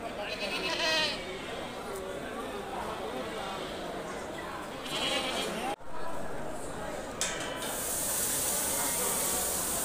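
Young goats bleat at the Saturday goat market in Angallu, their repeated wavering cries rising over a crowded background while people talk nearby throughout.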